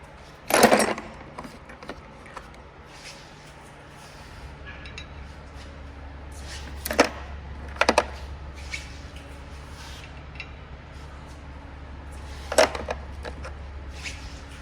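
Tool work on the front brake rotor bolt of a 2009 Mercedes-Benz E350: a few sharp metallic clicks and clanks spaced apart, with a low hum joining partway through, fairly quiet overall.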